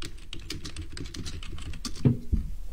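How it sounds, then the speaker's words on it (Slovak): Rapid typing on a Trust computer keyboard, close and fairly loud, a steady clatter of key strikes with a few heavier thumps near the end, no talking. "celý internet počuje tvoju klávesnicu. Je to veľmi dobrá klávesnica."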